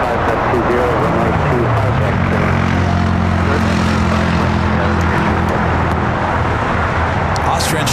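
Jet airliner at LAX taxis near the runway with a loud, steady engine roar and a falling whine, while a voice talks over it throughout.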